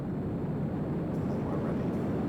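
Simulated aircraft engine throttled up in the Simple Planes video game, a steady broadband drone that holds at a constant level throughout without clear rises or breaks.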